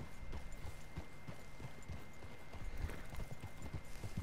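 Horse hooves clip-clopping steadily in Red Dead Redemption 2, a regular walking rhythm of close, distinct hoof strikes over a constant low ambient bed, with a brief whinny-like tone possible and no talk.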